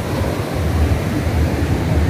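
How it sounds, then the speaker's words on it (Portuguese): A high-volume waterfall pours over rocks in its natural state, a loud, steady broadband rush with a deep rumble underneath, continuous and close, with no talking. "A cachoeira está no seu estado natural. Mas o volume de água é bem grande."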